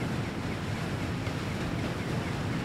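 A waterfall plunging into the depths, a loud, steady broadband rush of falling water with no pauses, used as an audio drama effect.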